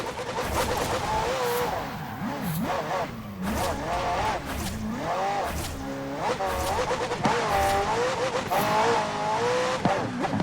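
Nissan GT-R supercar in Forza Horizon 4, engine loud and close, its pitch rising and falling through repeated gear shifts, with tire squeal on the way.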